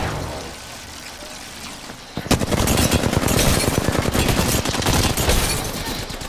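R99 submachine gun in the Apex Legends video game firing in rapid, loud sustained bursts that start abruptly after a quieter moment and continue to the end.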